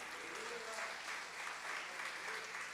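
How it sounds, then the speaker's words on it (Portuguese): A church congregation at a Christmas service claps together in praise, a steady, moderately distant wash of applause filling the room for a few seconds. "Você pode aplaudir o Senhor por esse momento?"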